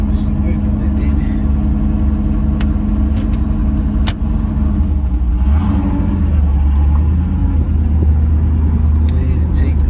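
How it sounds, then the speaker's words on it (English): A 1985 Chevrolet El Camino's engine runs with a deep steady rumble, rising slightly as the car pulls away, while someone talks nearby. "We gonna go ahead and take the Elco for a little ride."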